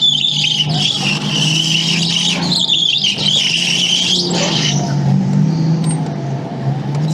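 A race car spinning its tires to heat them, with loud, close, sustained tire squeal and engine roar over several seconds before the screech fades.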